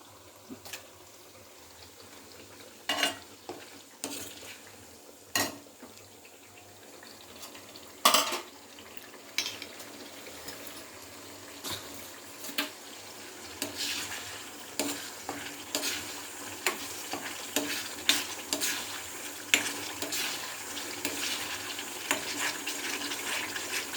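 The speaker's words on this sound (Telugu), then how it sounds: "ఫ్రై అవుతుందండి." Pieces frying in oil with ginger-garlic paste, a continuous low sizzle broken by repeated sharp clinks and scrapes of a utensil against the pan, growing busier toward the end.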